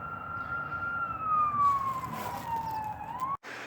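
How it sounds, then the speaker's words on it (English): An emergency siren passes outside, a steady wailing tone that slowly drops in pitch as it goes by, heard indoors at moderate distance before cutting off abruptly. "And I'm sorry for the siren."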